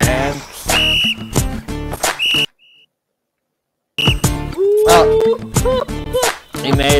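Shrill whistle blasts ring out several times over loud, busy background sound, briefly broken by a near-silent gap before the noise returns.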